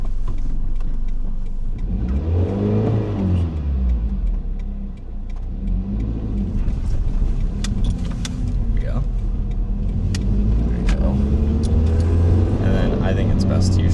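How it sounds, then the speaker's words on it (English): A cheap used manual car's engine rises and falls in rough revs as the clutch is eased out, with people talking over the rumble inside the cabin. "Now let off the clutch very slowly because it's going to bring the RPMs up."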